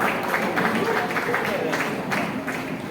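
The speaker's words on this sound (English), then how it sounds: "applause for him, please" Applause from the audience at a Nakba anniversary solidarity evening for Palestine, a steady dense clapping wash lasting the whole stretch with faint voices mixed in.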